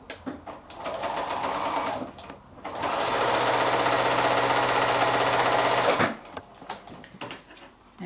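A sewing machine stitches rows of novelty 5-inch quilt squares together in close, loud bursts of rapid mechanical whirring, with a short pause and a final burst of stitching.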